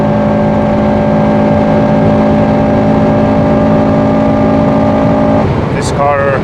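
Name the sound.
Honda Civic Type R FN2 accelerating on autobahn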